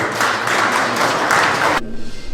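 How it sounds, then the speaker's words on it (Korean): Audience at an exhibition opening ceremony for a disabled artists' association in Gwangju claps steadily, a full continuous round of applause that cuts off abruptly near the end, leaving quiet room tone. "큰 박수로 맞이해세요"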